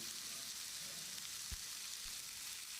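Chopped tomatoes with salt and turmeric sauté in a pan for Chettinad chicken, a steady soft sizzle with a couple of faint stirring knocks, close and quiet.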